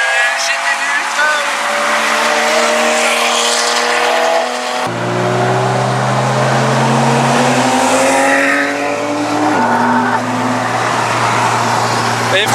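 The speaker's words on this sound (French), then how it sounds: "Elle marche bien la 308 GTI, ça." A Peugeot 308 GTI drives in traffic alongside sports cars, its engine droning loudly with rising and falling gear tones, and people talk over it throughout.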